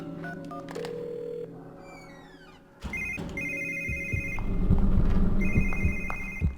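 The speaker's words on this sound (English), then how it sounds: "I can use the phone in here to call the phone in the next room." Telephone ringing in a game of The Evil Within, repeated electronic bell-like trills over dark ambient background noise and clunks, moderately loud with no talk.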